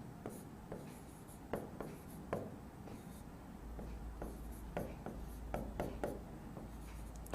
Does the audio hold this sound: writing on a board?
yes